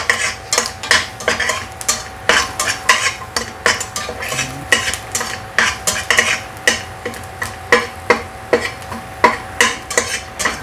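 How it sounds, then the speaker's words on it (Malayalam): Macaroni stirred in a pot over a low flame, a utensil scraping and knocking against the metal in a steady repeated rhythm of strokes about every half second, close up, with a faint sizzle underneath. "ചെറിയ തീയിൽ വെച്ചിട്ട് നല്ലോണം ഇളക്കണം"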